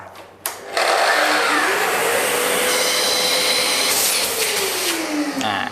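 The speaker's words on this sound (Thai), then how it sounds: "ก็จะเห็นได้ว่าเครื่องดูดฝุ่นก็จะทำงานเปิดปิดอัตโนมัติพร้อมกับตัวเลื่อยเลย" A Festool KS 120 REB Kapex sliding compound miter saw starts up with its auto-start dust extractor vacuum, giving a loud, close, sustained motor whine and airy roar whose pitch shifts slightly as it runs, then cuts off.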